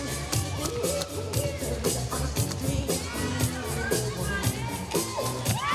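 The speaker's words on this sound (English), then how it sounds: "You can hear the crowd, they're getting excited." A crowd at a jump rope championship cheers and whoops excitedly, moderately distant, mixed with rhythmic tapping of ropes on the floor and bursts of voices throughout.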